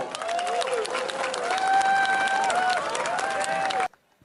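Audience applause for an honored guest at an Indonesian national speech gathering, lively crowd clapping with cheering voices rising over it, then cutting off abruptly.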